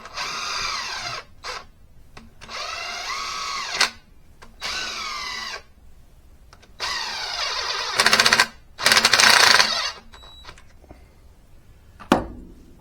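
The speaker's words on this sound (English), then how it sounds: "Just run these bolts down." A power tool runs bolts down on a VW 1.9 TDI PD150 engine being fitted into a Honda Civic EK, firing in short, sharp, loud bursts separated by pauses, with one longer run near the end.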